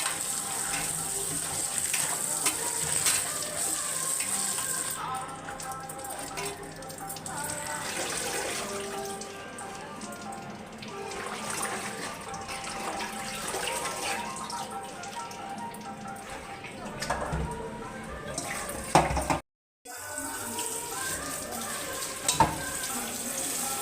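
Gongura leaves are washed in water, with a continuous rush of running water and splashing as the leaves are handled. The sound is close and steady, breaks off briefly near the end, then resumes.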